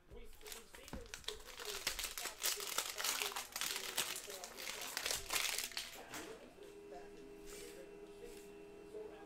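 Crinkly foil wrapper of a 2020 Panini Prizm NFL trading card pack being ripped and crumpled open up close, a steady run of crackling and tearing over several seconds, with a person talking over it at times.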